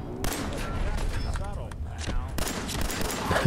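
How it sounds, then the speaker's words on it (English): Gunfire in the video game Fallout 4, a dense run of shots and bursts heard close and loud throughout, with a voice talking over part of it. "We go in guns a-blazing."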